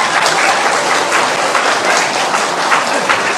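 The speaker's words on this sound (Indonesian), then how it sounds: "Terima kasih tepuk tangannya." An audience claps and applauds at a Sasak singer's performance, a loud, steady wash of many hands that continues evenly for the whole few seconds with no voices over it.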